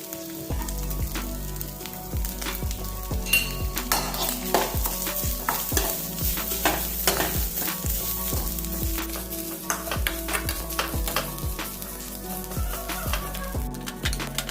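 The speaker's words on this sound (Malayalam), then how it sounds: "ഇനി നമുക്കിതൊന്ന് വറുത്തെടുക്കണം." Coconut, shallots, garlic, curry leaves and cumin roast in a pan with a steady soft sizzle, punctuated by repeated scraping strokes of a spoon stirring throughout.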